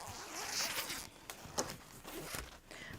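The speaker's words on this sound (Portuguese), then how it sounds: "O nosso zíper eu vou abrir." A zipper being pulled open on a fabric passport wallet during sewing, a close, brisk rasping slide with a few short zips and rustles of cloth.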